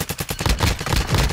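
Rapid bursts of automatic gunfire crackle from a firefight in Call of Duty DMZ, dense and loud with overlapping shots in quick rhythm.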